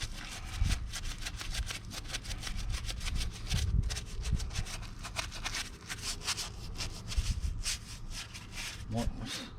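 Stubborn grime scrubbed off an engine block, rapid repeated rasping rub strokes in a steady rhythm running throughout, close and fairly loud, with a voice talking over parts of it.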